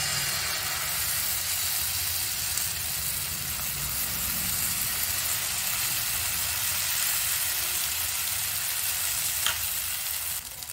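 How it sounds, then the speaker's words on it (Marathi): Multigrain batter sizzling on an oiled pan, a steady close hiss that runs without a break for about ten seconds and fades slightly at the end, with no voices. "पॅन ठेवलाय, तेल लावून घेऊया। आता याच्यावर आपल्याला हे घालायचं आहे।"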